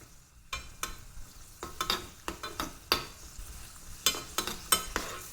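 Ingredients for Tamil sweet pongal are stirred and roasted in a pan, with a spoon scraping in irregular quick strokes over a faint sizzle, close and fairly quiet.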